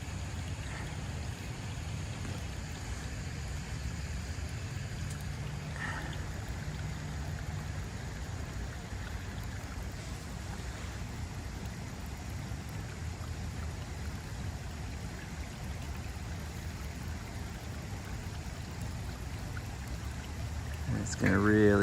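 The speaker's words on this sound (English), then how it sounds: "water coming through the spillways here, and we're gonna see what this waterfall looks like." Water pours steadily through the spillways of a wetland filter waterfall at a garden, a continuous low rushing wash heard throughout, with faint speech in the background.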